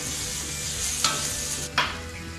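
Crushed garlic and ginger stirred in hot oil in a pressure cooker, a soft, steady sizzle with two sharp scrapes of the spoon against the pot, close and quiet.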